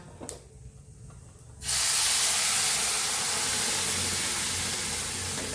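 A sudden loud hiss of steam bursts from a pot of cooking sambar with lentils, continuing steadily, close and broadband, after a quieter stretch of low background noise.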